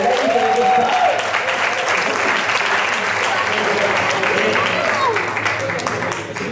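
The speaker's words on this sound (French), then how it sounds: "je vous demande de faire une ovation à Jérémy Montagnol" An awards evening crowd gives a young cyclist a sustained ovation, dense applause filling the room loud and steady, fading slightly at the end, with a voice faintly over the clapping.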